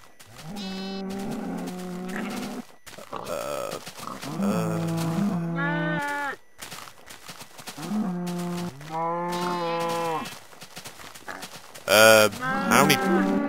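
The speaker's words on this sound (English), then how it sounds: "We have two young cattle." Minecraft cattle mooing repeatedly, several long drawn-out calls overlapping one another, loud and close, with a brief burst of other noise near the end.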